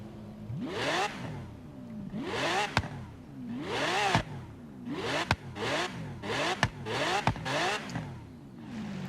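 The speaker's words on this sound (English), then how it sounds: "let's hear the new V12. Let's hear how that sounds" A Lamborghini Reventón's V12 in a video game revs hard again and again, each rising howl climbing and snapping off with sharp upshift cracks, loud and close with no talking.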